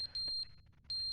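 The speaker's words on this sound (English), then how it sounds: "What's that beeping?" High, steady beeping alarm from The Stanley Parable: Ultra Deluxe, sounding in two loud bursts at the start and end with a quieter stretch between.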